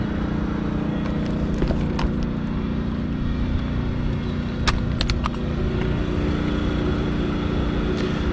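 A generator runs in the middle of the night to charge RV batteries. Its steady, close engine drone never lets up, with a few faint clicks and knocks on top and no voices.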